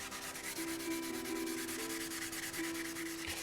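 Sandpaper lightly rubbing between coats of black paint on a motorcycle mirror, a steady close scratchy hiss that runs without pause.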